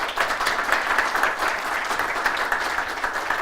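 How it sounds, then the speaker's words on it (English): Audience applause for a speaker at the close of a HoloLens tech meetup talk, a short, even burst of many hands clapping at moderate loudness, steady throughout with no speech over it. "please a round of applause for Tom Verhoeff."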